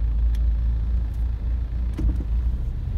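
Steady low rumble of street traffic on a city road with standing water, a continuous drone of passing cars close by and no voices over it.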